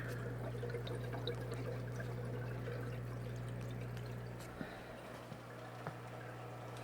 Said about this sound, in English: Okay, now this is draining.